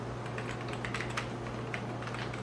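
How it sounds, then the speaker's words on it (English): Fast, uneven clicking of a computer keyboard being typed on up close, with a steady low electrical hum under the keystrokes and no one speaking. "you can type without looking at the keyboard?"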